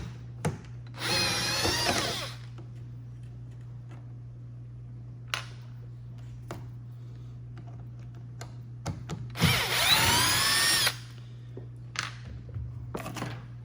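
Power drill backing out rub rail screws, two loud whirring bursts around a few seconds apart, separated by quiet moments with a steady low hum and small clicks of handling.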